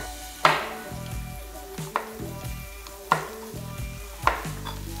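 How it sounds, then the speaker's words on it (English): A knife chops a capsicum on a board while making tomato salsa, four crisp, sharp cuts spaced about a second apart, close and clear with a faint kitchen hum between them and no talking. "We're gonna take a nice little capsicum here. Cut it in half."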